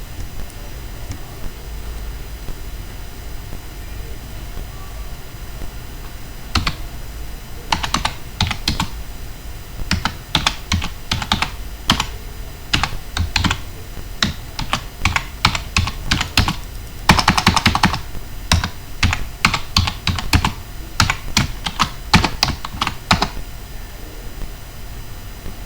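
Code typed on a computer keyboard while programming an Arm Cortex M4 UART transmit function, bursts of close, crisp key clicks with pauses between, starting after several seconds of near quiet.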